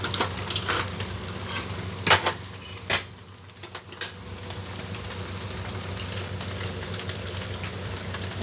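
Fish-oil fritters frying in a little oil in a pan, a soft steady crackle and sizzle with a few sharp pops and spatters, close and fairly quiet, with no talking.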